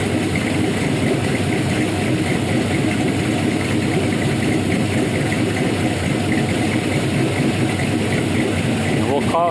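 A big-cam 5.3L LS V8 idles steadily with a loud, lopey, close rumble and some vibration, and a voice briefly speaks over it near the end.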